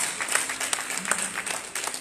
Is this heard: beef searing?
no